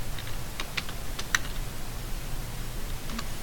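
Keyboard typing comes through as a few sparse, light clicks in two short bursts over a steady low hum, faint and somewhat distant, with no speech.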